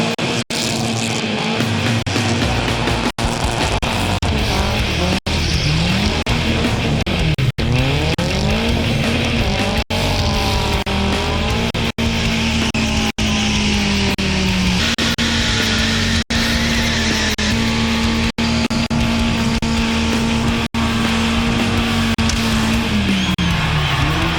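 Cars doing tyre burnouts on a burnout pad at an Import X car event: a loud, continuous engine roar with rising and falling revs and a sustained tyre squeal, close and unbroken throughout.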